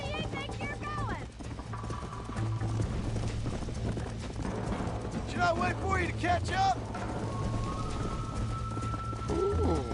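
Horse hooves gallop at a rapid, continuous clip in Red Dead Redemption, accompanied by snorts and whinnies, with a man's spoken line over the pounding hoofbeats and game music.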